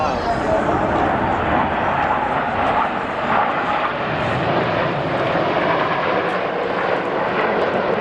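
Red Arrows jets flying aerobatic rolls at the 2017 Wales National Airshow, a loud continuous roar of jet engines that holds steady throughout, heard from the crowd.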